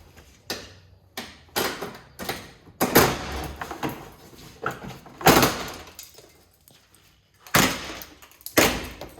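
Plastic inner fender liner clips on a Jeep Gladiator are torn loose in a series of sharp cracking pops and rasping scrapes, about a dozen irregular bursts close up with short pauses between.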